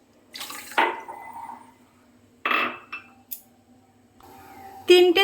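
Water poured into a pan for sugar syrup when making chhanar jilipi, giving short splashing pours separated by quiet gaps, with light clinks of the pan, close and clear.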